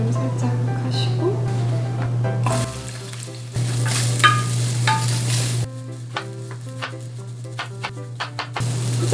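Chopped vegetables stir-fry in a little oil for a spicy eggplant and meat dish, a steady sizzle with scraping utensil strokes and clacks against the pan, alongside a continuous low hum.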